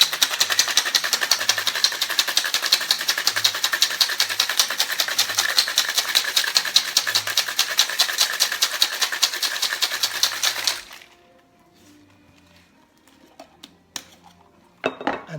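A cocktail shaker rattles rapidly and steadily for about ten seconds while mixing a Search & Rescue cocktail, ice clattering inside, then stops, leaving near silence with a few faint clicks.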